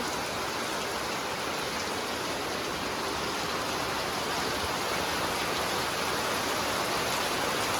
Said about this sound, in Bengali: এত বৃষ্টি রাস্তায় পুরো জল জমে গেছে